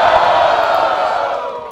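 Crowd at a Brazilian rap battle (Batalha do Coliseu) cheering and shouting loudly and continuously, a dense roar of voices that fades slightly toward the end.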